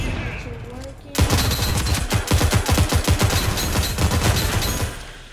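Rapid gunfire in the Rogue Company video game: a dense, loud burst of shots that starts abruptly after a second and keeps a fast rhythmic pattern throughout, with faint voices beneath.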